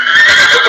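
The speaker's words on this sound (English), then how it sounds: "You can see he's yelling for other horses" A young horse being started under saddle lets out one loud, close, high whinny calling for other horses, heard alone and briefly.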